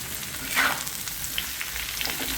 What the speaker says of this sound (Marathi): आता आपण कांदा थोडासा भाजत आलेला आहे त्याच्यामध्ये आपण दोन तांबाटे घेतलेली आहेत तेही भाजायला सर परतून घेऊ